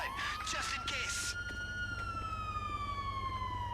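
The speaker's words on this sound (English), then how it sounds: "those sirens are everywhere" Police sirens wailing in the GTA V Online video game, a steady sweeping siren tone holding throughout, with harsher bursts at the start over constant background rumble.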